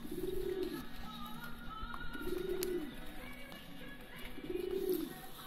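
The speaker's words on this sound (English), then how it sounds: "open the boards, open the pigeons out" Homing pigeons cooing at their loft, three slow, evenly spaced low coos standing out clearly against a steady hum of background noise.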